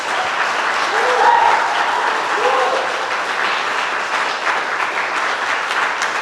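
Sustained audience applause at a bike tech meetup in New York, steady dense clapping from a crowd filling the room for about six seconds, fairly loud and continuous without pause.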